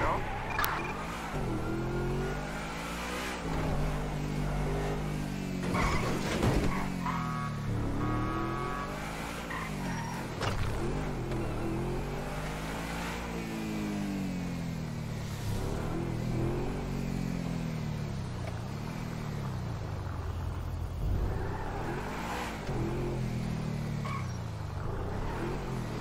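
A car engine in Grand Theft Auto 5 revs up and down again and again while driving, rising and falling in pitch under ongoing talk.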